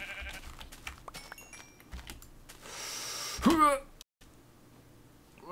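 A single wavering sheep bleat from Minecraft rises midway through, set against steady computer keyboard clicking and scattered game noises, followed by a brief quiet gap.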